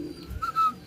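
A bird calls once near the microphone with a short, clear whistled note, over faint background noise.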